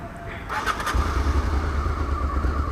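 A Honda Africa Twin XRV 750 motorcycle engine cranks and catches, then settles into a steady, throaty idle that runs on close by.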